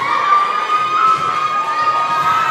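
Crowd cheering and shouting from a volleyball game on senior night, a steady loud roar with high young voices shouting throughout, no speech on top.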